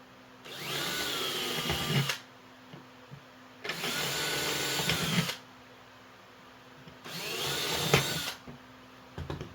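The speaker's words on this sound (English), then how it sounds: "I wanted to put pilot holes in there because it may split out" A power drill boring pilot holes for large screws whines in three separate bursts of about one and a half seconds each, with quiet pauses between them, close and fairly loud.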